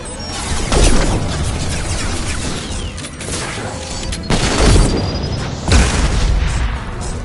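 Overload tech power blasts in the sci-fi shooter Mass Effect 2, loud booming bursts and crashing impacts recurring every second or two over a constant rumbling battle din.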